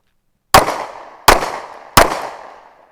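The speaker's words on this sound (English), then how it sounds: "I'm going to draw, and I'm going to start walking backwards, draw, and fire 3 rounds, all on the move" Three sharp, loud pistol shots fired while moving backwards on a shooting course, evenly spaced about three quarters of a second apart, each with a short ringing decay and no talk.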